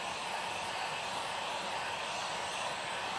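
A heat gun warms chrome vinyl wrap on a car, giving a steady, even blowing hiss that holds unchanged throughout with no voices.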